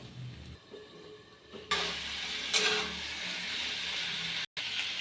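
Runner beans and potatoes stirred in a pan, a near, steady sizzle that swells sharply partway through, with scraping stirs and a brief clatter, no voices.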